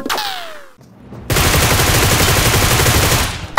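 Rapid automatic gunfire in a battle royale video game, a dense rattling burst of shots following a brief whooshing sound and a short pause, loud and close.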